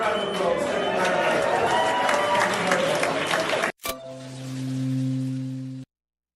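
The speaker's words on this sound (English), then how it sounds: "Justin, let's give it a round of applause" A crowd applauds and cheers loudly for several seconds, then the noise cuts off abruptly and a steady low electronic tone takes over.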